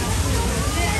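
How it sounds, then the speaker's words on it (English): Water pours and sloshes into a large aquarium tank at the London SeaLife Centre, a loud continuous splashing rush with voices talking over it. "There's water coming from there."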